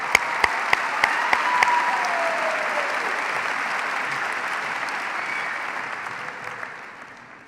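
Sustained applause from a large Boise State spring commencement audience honoring emeriti faculty, with a few sharp close claps at the start; the dense clapping holds steady for several seconds, then thins and fades toward the end.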